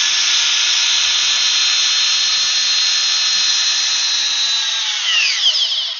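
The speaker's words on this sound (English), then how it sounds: "Brushed Porter cable drill driver. Model number on it is PCC601." A brushed Porter Cable PCC601 drill driver on a fully charged 2 amp hour battery runs with a loud, steady high whine, then winds down as the motor slows at the end.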